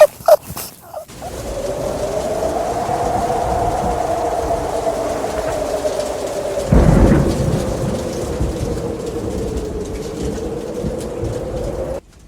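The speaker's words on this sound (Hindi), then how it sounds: "तूफान हमारे घर तक पहुंच गया है" A thunderstorm rolls through with steady heavy rain and a long low rumble of thunder that swells midway, loud and continuous throughout, with no voices.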